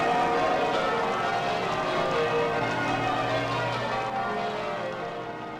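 Church bells of St. Paul's Cathedral peal continuously in a rich, ringing wash at a 1980s royal wedding, with a faint murmur of a crowd beneath; the sound fades slightly toward the end.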